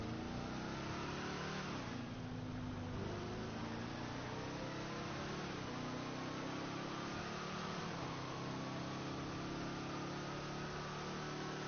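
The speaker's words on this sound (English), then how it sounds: "This car does not fly very fast" A flying car's engine in a video game, a continuous mid-pitched motor drone with rising and falling revs, loud and close, running alone without talk.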